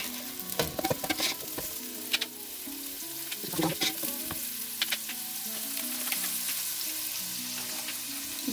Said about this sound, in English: And then I'm gonna drop in my onion. Okay, I'm just gonna give this a quick stir.